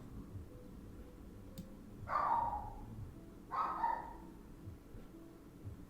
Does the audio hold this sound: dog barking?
yes